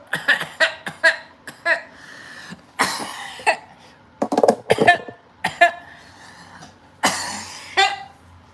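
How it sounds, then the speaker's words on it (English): A person coughs repeatedly up close, a string of short harsh coughs and throat-clearing bursts with brief pauses between them. "You gotta cough at the end like I'm a noob"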